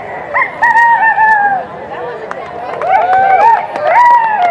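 A woman imitates a rooster crow at a rooster crowing contest, giving several rising and falling cock-a-doodle-doo calls in quick succession, loud and close, with crowd noise faintly behind.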